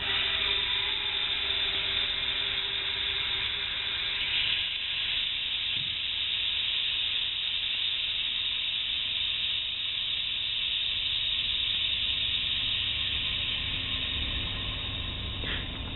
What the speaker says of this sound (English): it was air rushing back into the bell jar through that valve